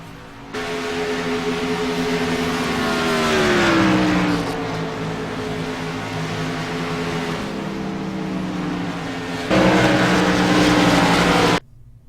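Racing trucks roar around Homestead speedway at a season finale, a loud steady engine drone with harmonic whine shifting pitch as they pass, swelling near the middle and again toward the end before cutting off.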